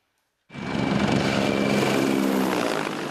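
A Mi-24 military helicopter sweeps in at very low altitude, its rotor and engine roar bursting in suddenly after a moment of silence and holding loud and steady with a faint high whine over the top.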